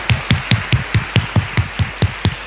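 Congregation in a church clapping together in a steady, even rhythm, about eleven sharp claps in quick succession, close and fairly loud with no talk over them.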